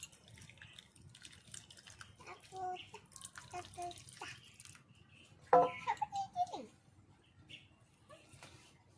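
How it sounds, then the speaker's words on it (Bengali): Watermelon juice strains through a net into a large bowl, with soft drips and trickles scattered beneath a person talking nearby. "এবার নেট দিয়ে ছেঁকে নেব।"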